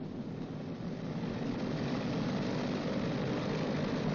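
A B-29 Superfortress radial piston engine runs up to 2,000 RPM with a loud, steady, dense propeller roar that swells slightly and holds.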